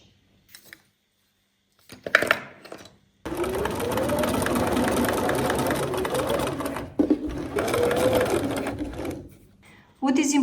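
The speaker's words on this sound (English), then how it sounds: "What is important here is that you don't sew all the way through, but you leave little gap here" A sewing machine runs in a steady continuous burst, stitching fabric with thread, pausing briefly partway and then starting up again, close and fairly loud, with a little handling noise before it starts.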